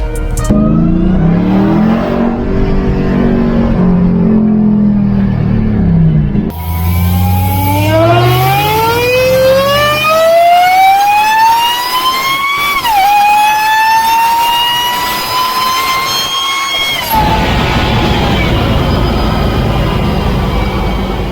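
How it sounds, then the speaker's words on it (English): A Ram TRX with a Bwoody intake gives off a loud, close, high-pitched whine from its engine bay that climbs steadily with revs, drops sharply, then holds at a lower pitch over a heavy engine roar. "a massive amount of whine coming from the engine bay"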